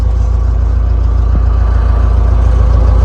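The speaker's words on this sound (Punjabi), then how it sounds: "ਟਰੈਕਟਰ ਕਰ ਲੈ ਸਟਾਰਟ" A tractor engine running steadily at a low idle after starting, a continuous deep, even drone close by with a brief faint click partway through.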